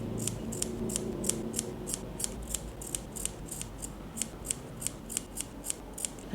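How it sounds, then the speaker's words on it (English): Scissors cut along fabric for a knotted two-color hairband, giving a steady run of about fourteen crisp, evenly spaced snips close to the listener, with no talking. "Then cut all along the fabric."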